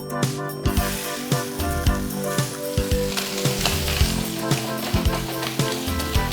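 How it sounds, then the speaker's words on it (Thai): Pieces of pork frying in a hot pan for Spanish braised pork, a dense steady sizzle close by with repeated light clinks and scrapes from stirring, no voices. "ในกระทะแรกนะครับ เราใส่เนื้อหมูลงไปเลยครับ"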